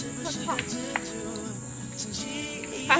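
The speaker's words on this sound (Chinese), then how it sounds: "这是知了吧？ 它就是知了，它飞走了。" Cicadas buzz in a dark, dense grove of trees, a faint steady high drone with a few chirps. Quiet voices are heard in the background.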